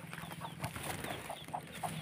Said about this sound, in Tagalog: Ayan, naitlog yung manok ni Jessa.